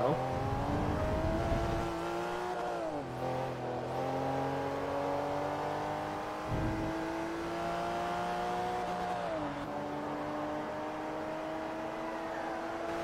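A Corvette race car in Forza Motorsport 3 roars close behind, its engine droning in a sustained high whine with brief dips and rises as gears shift, loud and continuous throughout.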